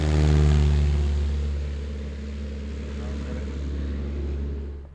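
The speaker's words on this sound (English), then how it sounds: "our plane is about to take off, leaving us behind." A small propeller plane revving up to take off from a field, a loud, steady droning engine hum with strong low tones that is nearest at first and then eases slightly in level, heard alone without talk.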